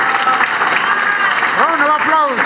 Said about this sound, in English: Round of applause. Louder.